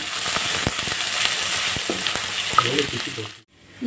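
Whole spices such as cardamom and stone flower fry in a pan for chicken gravy, with a continuous close sizzle and regular scraping stirs before the sound cuts off abruptly near the end.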